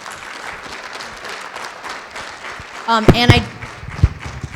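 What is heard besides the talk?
audience applause for a speaker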